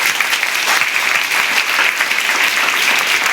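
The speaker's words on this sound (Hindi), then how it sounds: "तो टीचर्स के लिए भी एक बार ताली बजा दीजिए।" Schoolgirls from Govt High School Maisaram Barkas break into sustained, loud applause for their teachers at a university event at MANUU, a dense crowd clapping throughout.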